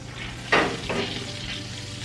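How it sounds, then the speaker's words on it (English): Burger buns toasting in butter in a skillet: a close, steady sizzle with a couple of sharp scraping stirs as the buns are pushed around the pan, no talking. "I'm going to take the buns and move them around in the butter and get them toasted"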